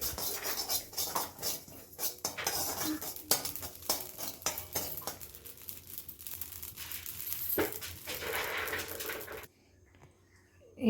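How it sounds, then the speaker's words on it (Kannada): Poppy seeds dry-roasting in an already hot pan, a spoonful being stirred: busy scraping, clinking and rustling, close and fairly loud for about nine seconds before cutting to near silence. "ಈಗ ಇದಕ್ಕೆ 1 ಸ್ಪೂನಷ್ಟು ಗಸಗಸೆ, ಆಲ್ರೆಡಿ ಬಾಣಲಿ ಬಿಸಿ ಇದೆ, ಅದೇ ಬಿಸಿ ಇರೋ ಬಾಣಲಿಗೆ ಹಾಕ್ಕೊಂಡು"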